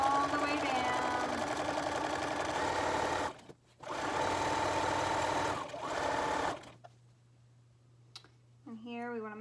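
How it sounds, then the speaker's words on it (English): A sewing machine stitching along the edge of a fabric face mask's bias strip runs in two steady whirring bursts separated by a short pause, then stops, close and clear, with a voice speaking near the end. "Sew that edge all the way down."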